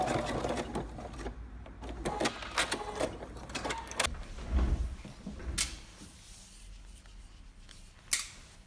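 A sewing machine back stitches at the end of a seam, giving short irregular mechanical runs and clicks followed by quieter pauses and one sharp knock near the end.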